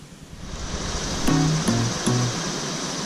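Watauga River near Elizabethton, Tennessee, flowing below the Wilbur Dam water release, a steady hiss of rushing water, with a few short tonal beeps over it midway.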